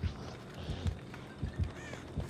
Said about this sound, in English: Just see crows flying.